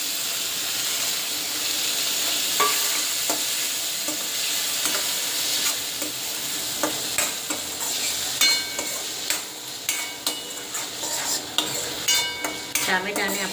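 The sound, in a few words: chopped tomato sizzling in ginger-chili paste, being stirred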